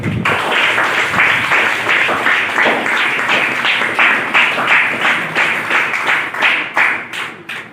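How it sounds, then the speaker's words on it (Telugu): Audience applause at a school awards function honoring a teacher, a dense burst of many hands clapping steadily for several seconds, loud and close, tapering off near the end. "అందరూ కూడా ఒకసారి క్లాప్."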